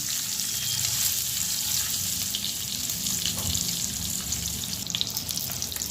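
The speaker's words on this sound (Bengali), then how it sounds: "দিয়ে আমি এটাকে নাড়তে থাকছি। আপনারা দেখুন এইভাবে ডিমগুলো একটু লাল করে ভেজে নেবেন।" Eggs fry in hot oil in a karahi, stirred with Kashmiri chili powder for a Bengali egg curry, giving a steady, close, loud sizzle with soft scraping stirs and no voices.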